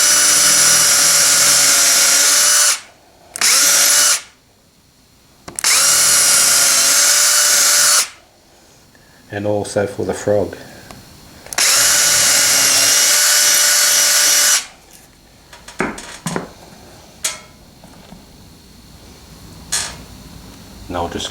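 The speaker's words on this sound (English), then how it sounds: "now I'll drill the holes for the wires underneath the turnout" A power drill boring wire holes beneath a model railway turnout, running in several loud, steady bursts of a few seconds each with short pauses and some light clattering between them; a voice speaks briefly.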